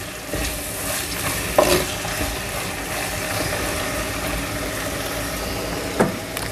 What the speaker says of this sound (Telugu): కొంచెం ఉల్లిపాయలు అటు ఇటు కలుపుదాం.